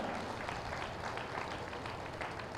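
Steady crowd clapping fills the air at a vegetarian non-violence rally in Armoor, a soft, far-off, unbroken texture of many hands without a clear rhythm.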